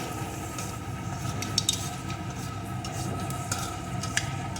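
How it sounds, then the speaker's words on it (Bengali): Panch phoron (Bengali five-spice seeds) sizzle and crackle in hot oil, a steady frying hiss with occasional small pops and a stirring scrape. "ওই তেলের ভিতরেই আমি এখন ফোড়নে দিয়ে দেবো পাঁচ ফোড়ন পাঁচফোড়নটা সুন্দর করে ভেজে নেব"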